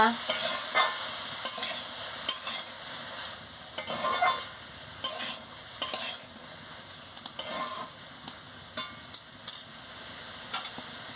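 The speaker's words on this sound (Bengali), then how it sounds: "পরিমাণ মতন হলুদের গুঁড়ো দিয়ে দিচ্ছি দিয়ে ভালো করে নাড়িয়ে নিচ্ছি" Ash gourd and peas sizzle in a pan as turmeric powder is stirred in, with a soft continuous frying hiss broken by repeated sharp spatula scrapes and taps against the pan.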